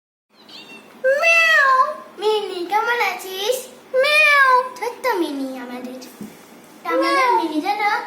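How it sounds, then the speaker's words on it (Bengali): A cat meows several times in drawn-out, rising and falling calls, close and clear, with brief gaps between them. "পুষি এখন এখানে শুয়ে আছে"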